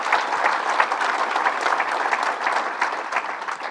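A crowd at an announcement in Rochester gives sustained applause for Lieutenant Governor Bob Duffy, an even wash of many hands clapping nearby.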